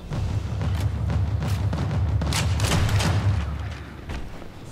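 Rapid gunfire from the video game Sniper Elite V2, a dense run of booming shots and thuds filling the scene steadily, with faint voices underneath.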